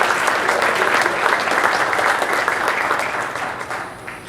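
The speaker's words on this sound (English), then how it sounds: "let's have a round of applause for" Audience applause at a gathering as someone is called up to the podium: dense, steady clapping from many hands that fills the room and fades slightly toward the end, with no voices over it.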